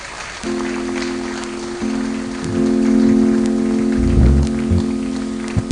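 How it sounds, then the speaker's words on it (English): Sustained applause from an audience at a university alumni convention and hall of fame investiture, a dense steady patter that swells midway with a sustained tone running beneath it. "Please, if you are clapping, you can do more better. Come on, let's make it so resounding."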